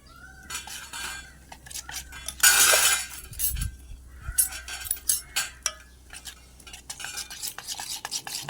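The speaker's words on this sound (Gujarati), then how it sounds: "બેટરને એકદમ સરસ મજાનું હલાવી નાખવાનું" A spoon stirs dhokla batter with Eno fruit salt mixed in, clinking and scraping against a metal bowl in uneven bursts, with a louder rush of activity partway through and no talking.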